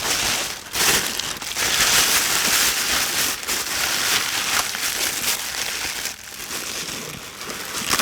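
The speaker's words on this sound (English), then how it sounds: "then I'll put my camera in a plastic bag" A camera is pushed into a plastic bag outdoors in winter, with dense, continuous crinkling and rustling of the plastic close by and brief dips in the noise.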